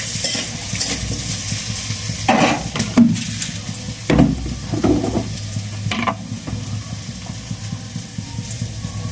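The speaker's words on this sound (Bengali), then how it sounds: "তো এই যে আমার সব ফ্রাই হয়ে গেছে, সয়াবিন আর আলু।" Potatoes and soybean chunks fry in a pan, a steady close sizzle broken by several louder scraping strokes as they are stirred, with no talking.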